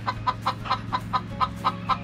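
A chicken clucks in a steady run of short, evenly spaced calls close by, about nine clucks in two seconds over a low hum, with no talking.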